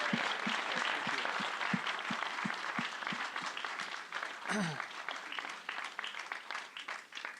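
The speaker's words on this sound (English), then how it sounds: "Please give them all a sincere and rousing round of applause." Sustained applause from the audience at a writing competition awards ceremony, a steady wash of clapping filling the room, with a few louder individual claps up front and a brief voice partway through.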